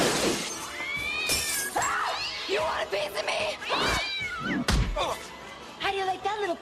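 Cat meowing in a scene from Scary Movie 2, several drawn-out, rising meows close by, mixed with someone talking, a sharp crash or shatter partway through and film score underneath.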